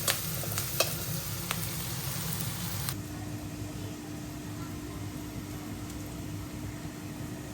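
Onion paste with a little salt stir-fried in a pan, a steady close sizzle and frying hiss with scraping stirs in the first seconds, then a continuous softer sizzle.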